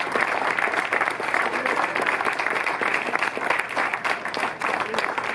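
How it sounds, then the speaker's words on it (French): A crowd applauds at the inauguration of a village festival in Holtzwihr, giving loud, sustained clapping with a slight dip near the end. "juste un tonnerre d'applaudissements pour Corinne et toute son équipe."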